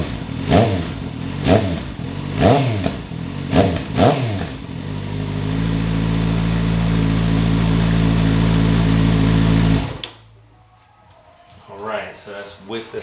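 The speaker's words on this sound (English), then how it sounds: "We just do a quick rev real quick so y'all can hear what it sounds like with the silencer in." A 2025 Kawasaki ZX6R with an M4 Street Slayer exhaust, silencer installed, gives four sharp throttle blips, then a sustained rev that drops off abruptly to a low idle burble, close and loud.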